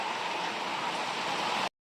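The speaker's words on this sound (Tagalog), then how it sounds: "Malakas na naman po ang ulan." Heavy rain falling during an afternoon downpour, a dense steady hiss of water with no breaks, moderately faint and alone, cutting off abruptly at the end.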